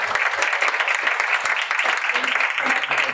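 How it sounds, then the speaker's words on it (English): Audience applause at a panel discussion in New York City, a steady crowd of clapping hands with sharp individual claps standing out, close and fairly loud with no speech over it. "Can we give a round of applause for"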